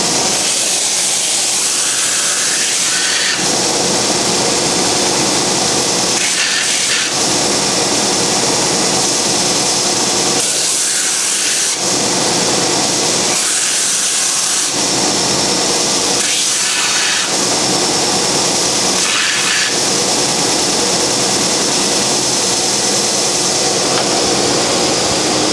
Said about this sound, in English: I'm just going to go on this sander into the waste.